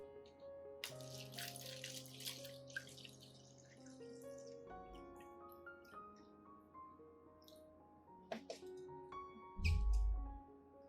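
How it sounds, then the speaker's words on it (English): A solution for soaking orchid roots trickles and splashes gently into a clean glass, with bright ringing tones in the background and a short burst of louder pouring near the end. "Prepare a clean glass and pour the solution into it."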